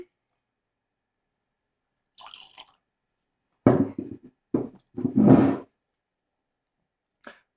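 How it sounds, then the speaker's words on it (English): Whisky is poured from an infinity bottle in a few short, wet glugging bursts, close and fairly loud, with quiet gaps between them and no talk. "let's give it a pour"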